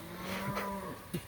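A cow lows during a cattle drive on a farm ahead of a coming rainstorm, a single drawn-out moo at moderate distance, with a brief extra grunt near the end and no talking.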